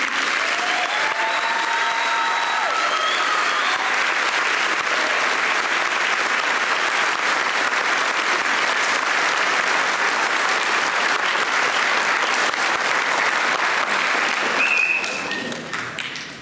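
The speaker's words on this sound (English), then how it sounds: "If we could give a round of applause for our class of 2020." Sustained applause from a sizable crowd at a high school senior awards night, steady and dense for many seconds before tapering off at the end, with a few faint voices.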